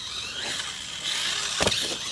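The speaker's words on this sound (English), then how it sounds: "What you're hearing is the gyro turning the tires all the way into the knuckles" A short electric whirring buzz with a sharper burst near the end as an RC car's gyro-driven steering servo strains, turning the wheels fully to the knuckles, close by with steady hiss underneath.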